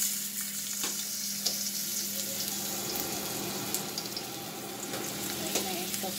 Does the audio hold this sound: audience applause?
no